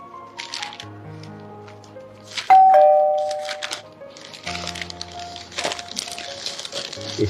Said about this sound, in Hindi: हमारे घर की डोरबेल बजी है ना?